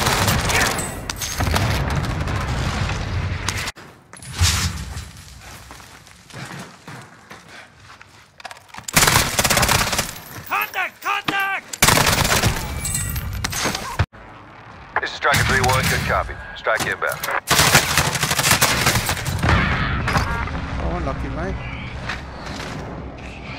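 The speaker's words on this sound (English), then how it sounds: "Shit, I'm getting shot at." Bursts of video game gunfire from Call of Duty Warzone, loud volleys and rapid automatic fire in clusters separated by brief lulls, with a player talking over the action.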